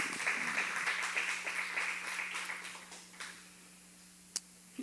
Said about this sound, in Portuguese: Uma salva de palmas ao nosso Deus